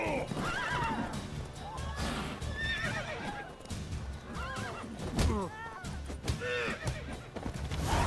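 Repeated horse whinnies and neighs from the video game The Witcher 3: Wild Hunt, over a steady rumbling background, with hoof clatter and scattered voices mixed in throughout.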